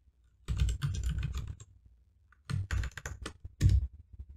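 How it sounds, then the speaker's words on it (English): Fast typing on a computer keyboard comes in two quick, dense bursts of close clicking separated by a short pause, with no talk. "I'm typing like a maniac."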